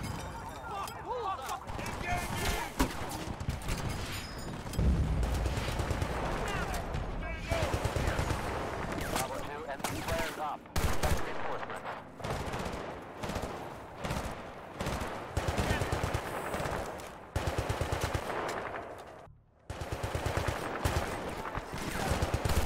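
Gunfire in the video game Battlefield Bad Company 2 during a military assault on a target vehicle, with dense bursts and rapid volleys running throughout amid loud battle noise, radio-style voices talking over it.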